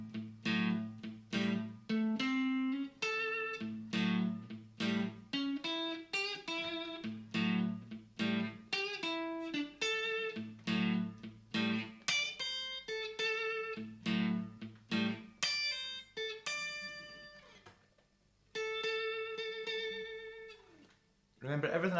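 A guitar plays a short rhythm pattern of repeated strummed chords, then a brief pentatonic single-note lead fill. The playing is quiet, clean and clearly articulated, with no talk.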